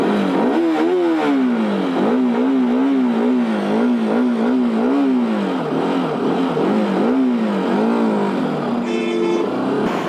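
A Bajaj Pulsar RS 200 motorcycle, push-started after failing to start, revs loudly and close by in repeated rising and falling bursts, with wind rushing across the microphone.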